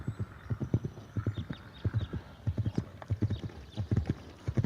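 Horse hooves clip-clop in a steady, close rhythm on the ground at the Kadina Racecourse in South Australia, a loud repeating beat with no talking over it.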